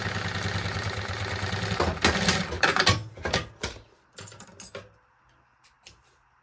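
A sewing machine stitches bias binding onto a fabric baby organizer, running steadily at first and then breaking into short stop-start bursts before falling quiet.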